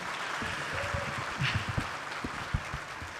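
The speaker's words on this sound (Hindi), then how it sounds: "एक बार ज़ोरदार तालियां बजा के।" An audience at an all-India kavi sammelan poetry event breaks into steady applause, clapping continuously at moderate loudness throughout.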